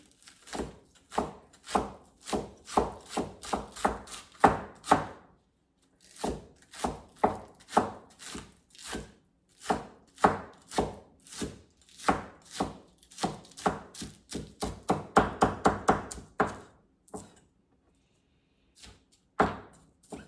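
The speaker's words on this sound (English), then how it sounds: "I'm going to chop those green onions" A knife chops green onions on a cutting board in quick, steady runs of crisp thunks, with a few brief pauses and a faster burst near the end, close and clear with no talking.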